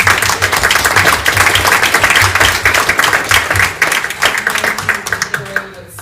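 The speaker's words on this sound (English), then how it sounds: "So please give Eric a round of applause, even though he's not" An audience at a church parish annual meeting breaks into loud, sustained clapping that keeps a dense, even texture for several seconds before thinning out near the end.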